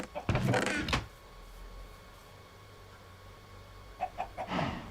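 Chickens in Minecraft give brief, faint clucks, one cluster near the start and another near the end, with quiet game ambience in between.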